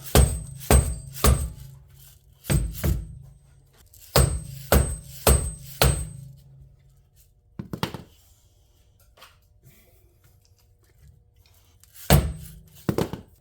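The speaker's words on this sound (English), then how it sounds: "Sometimes you might need to kind of persuade this in a little bit, like a dead blow hammer preferably." Sharp, solid dead blow hammer blows on metal during a Ford Explorer control arm replacement, struck in quick clusters of two to four hits with pauses between, close and fairly loud.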